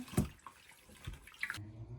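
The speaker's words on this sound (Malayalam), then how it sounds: "മല്ലിയില കഴുകിയെടുക്കുവാണ്" Coriander leaves rinsed under running water from a tap: a short close splash and trickle with a few handling knocks, then the flow cuts off, no talk.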